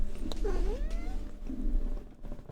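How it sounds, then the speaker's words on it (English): A cat gives a drawn-out, wavering meow close by, then a shorter, softer one, against a low background hum. "Meow."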